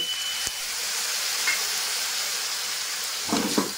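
Water used to rinse spices is poured into a hot pan of fried masala for a soybean, cauliflower and potato curry, producing a steady, close hiss and sizzle with a few faint clinks.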